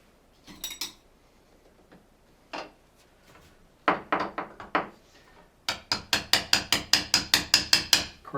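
Hammer taps and scraping as a bathroom holder is pried off a tiled wall with a putty knife: scattered knocks early, then a steady run of about a dozen sharp, close metallic strikes.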